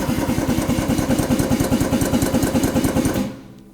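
A pneumatic-hydraulic ATEX drum tipper runs as it lifts a drum, giving a steady, loud mechanical motor drone with a rapid pulsing rhythm that cuts off sharply near the end.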